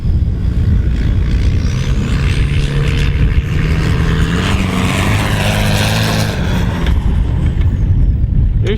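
An old Toyota Hilux runs loudly after a cold start, a harsh, steady engine roar with a rough broadband clatter that carries on without a break and with no talking.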